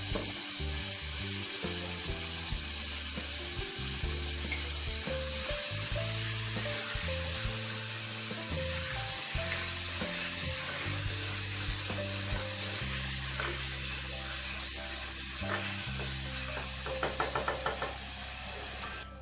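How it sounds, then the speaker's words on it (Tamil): Tomatoes with salt cooking for a soya bean masala sizzle steadily in a hot pan, with occasional knocks and stirring scrapes of a utensil against the pan throughout. "இதுல வந்து உப்பு போட்டுக்கலாம், தக்காளி வேகட்டும்."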